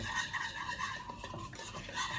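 Spoon stirring a sesame seed mixture in a bowl, a steady run of soft scraping and clicking strokes, close and continuous with no talk.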